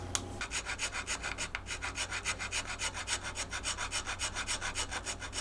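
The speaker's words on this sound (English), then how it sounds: "I start with a file." A file rasps back and forth on the wooden neck heel of a 1948 Gibson LG-3 acoustic guitar, in steady rhythmic strokes, close and fairly quiet.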